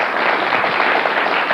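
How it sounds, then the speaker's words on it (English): Studio audience applauding at a televised talk-show debate, a steady wash of many hands clapping at once, dense and even for the whole stretch with no voices over it. "If you think so, applaud."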